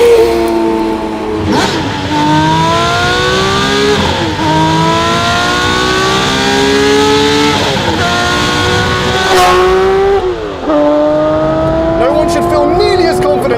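A loud engine of a 1989 Porsche 911 reimagined by Singer, with a titanium X-pipe exhaust, revs hard through repeated gear changes, each climb ending in a sharp shift, the exhaust roaring close by.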